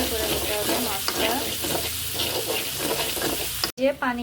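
Fish sizzling in a frying pan amid repeated stirring scrapes, loud and close, with a brief dropout near the end.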